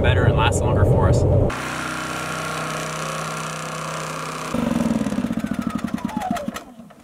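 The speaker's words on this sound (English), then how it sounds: "we got our generator back and she's running better than ever" A generator at an off-grid cabin runs with a steady mechanical drone, rising to a louder, rougher rattling rhythm toward the end, close by and with no talk over it.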